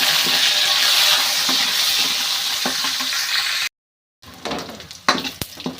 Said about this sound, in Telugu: ఎర్రగడ్డ, కరివేపాకు, అలాగే ఆవాలన్నీ ఒకటేసారి వేసుకున్నాం